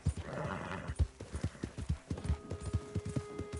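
Hoofbeats of a horse in Red Dead Redemption 2 clip-clop in a steady galloping rhythm, close and clear, with a neigh breaking in early on; no talking.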